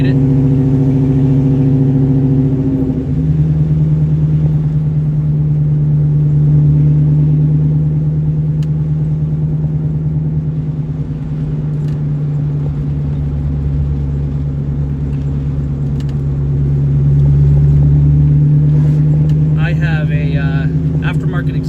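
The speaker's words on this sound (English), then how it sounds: "Aftermarket exhaust on this." A 2003 Ford Mustang GT 2-valve V8 with a catless custom H-pipe aftermarket exhaust drones close by, deep and rumbling, holding a low throaty tone with gentle swells in revs.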